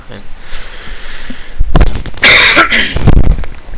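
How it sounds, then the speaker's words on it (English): Several harsh, close coughs burst out in a quick cluster after a quiet start, with soft background noise. "I got a really bad cough for some reason"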